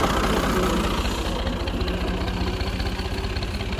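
Tractor engine idling in a village: a loud, steady low diesel chug with a fast regular knocking pulse, close and continuous for the whole stretch.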